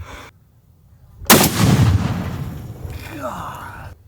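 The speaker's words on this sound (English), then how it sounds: "We're gonna have him chamber it in and shoot it at those plates." A loud gunshot cracks outdoors as a rifle styled after a Call of Duty Modern Warfare weapon fires at steel target plates, followed by a long rolling echo and faint metallic ringing from the plate.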